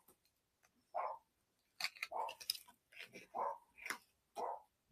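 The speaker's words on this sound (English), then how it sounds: "My dog is starting to lose her mind." A dog barks several times in short, sharp bursts spaced irregularly, fairly close, with quiet gaps between them.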